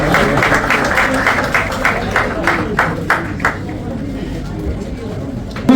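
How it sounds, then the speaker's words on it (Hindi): Loud audience applause at a community event in India, dense rapid clapping from a crowd with crowd noise mixed in, fading slightly toward the end. "जोरदार तालियां"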